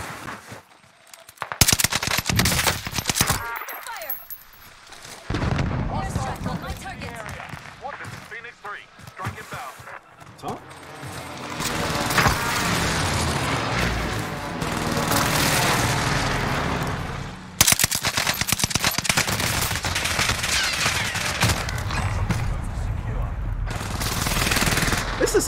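UGM-8 machine gun fire in the Warzone video game comes as loud, sustained bursts of rapid automatic shots mixed with other game gunfire, with players talking over it.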